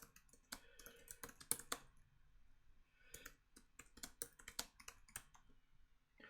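Quick, irregular clicks of typing on a computer keyboard, coming in bursts with a short pause, close and fairly quiet.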